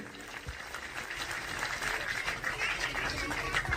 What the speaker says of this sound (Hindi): इनके लिए सम्मान में जोरदार ताली सेवा कीजिए